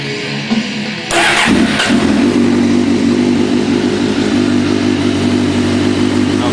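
A 2005 Suzuki GSX-R 600 sport bike engine starts with a short crank and then settles into a steady, loud, close idle that runs without pause to the end, with no talk over it.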